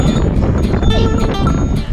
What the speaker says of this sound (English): The goats sure are friendly around here.